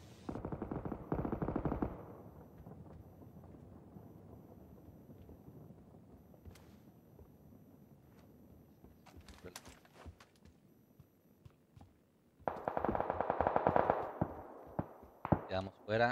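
Gunfire from a shooting video game, with dense bursts of rapid shots at the start and again near the end, and scattered single shots between them, all under a quieter middle stretch.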